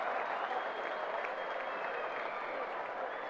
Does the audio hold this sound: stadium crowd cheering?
yes